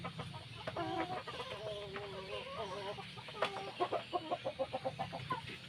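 Native chickens cluck while being fed, a cluster of soft, rapid clucks and calls from the flock close by, ending in a rhythmic run of pecking or clucking pulses.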